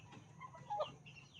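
A faint, brief clucking call from a wild red junglefowl (labuyo) rooster, trapped, rises over low background noise.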